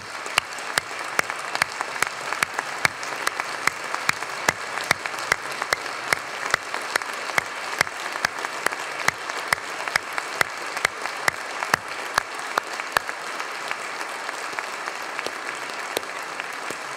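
An audience at the Illinois State of the State address applauds a boy and his family, sustained loud clapping from a large hall that continues evenly for the whole stretch.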